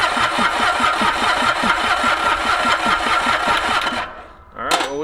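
Ransomes Bobcat diesel mower engine cranking on its first start after nine years idle, rapid rhythmic chugging compressions close by and loud for about four seconds, then stopping abruptly, followed by a brief sharp noise.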